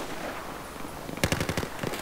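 Automatic gunfire in Battlefield 4 erupts as a rapid burst of about a dozen sharp, loud shots after a stretch of ambient battlefield noise.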